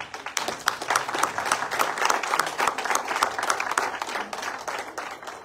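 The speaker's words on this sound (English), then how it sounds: "Please clap for them." An audience at a financial literacy program event claps for the teachers and trainers, brisk scattered-to-dense handclaps from a mid-sized crowd, sustained and fairly close throughout.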